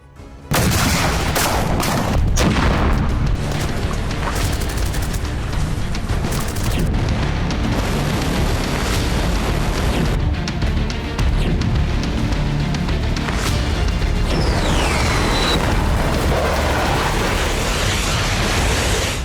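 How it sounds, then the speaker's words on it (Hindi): War footage of aerial bombardment in the Russia-Ukraine conflict carries loud continuous rumbling blasts and bursts of gunfire, dense and distorted throughout with no speech. "हवा से ताबड़तोड़ बमबारी"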